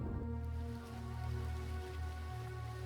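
Steady rain patters on a surface, a continuous soft hiss with a low background hum.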